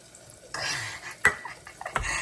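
A utensil stirs and scrapes through a stuffed brinjal and potato curry in a metal pan, with a couple of sharp clanks against the pan and a faint sizzle underneath.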